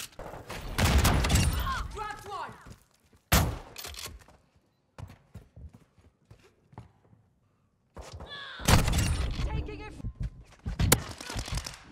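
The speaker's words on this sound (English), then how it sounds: "This guy's never gonna stop shooting." Shotgun fire in the video game Modern Warfare 2, with loud bursts of blasts and thumps at the start and again near the end, separated by a quieter stretch of scattered sounds.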